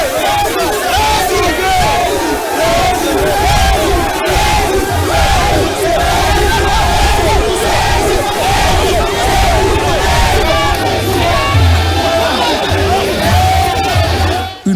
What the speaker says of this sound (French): Une foule compacte et enthousiaste l'a chaleureusement ovationné